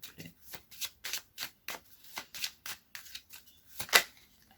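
Tarot cards shuffled by hand in a series of about a dozen crisp riffling bursts at a steady rhythm, close and fairly quiet, with one sharper snap near the end and no talking.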